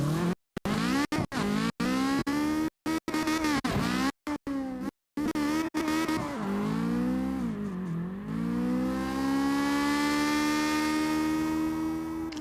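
A race car screams past at speed on a qualifying run, engine note rising and falling through gear changes and choppy dropouts, then a long steady high-revving drone close by.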